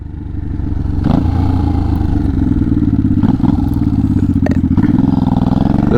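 A Honda Shadow 500 motorcycle engine runs close and loud, its throbbing idle climbing into several throttle blips and revs before settling and rising again.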